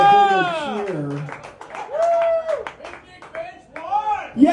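Scattered cheers and whoops from a small outdoor concert audience, with some clapping mixed in among loud nearby voices, rising again briefly at the end.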